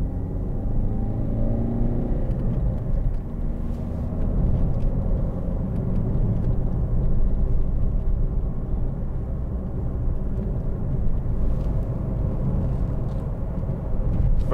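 A white 2013 Ford Focus 1.6 TDCi ECOnetic diesel hums steadily from inside the cabin while driving, with a constant low engine and road rumble and no talk.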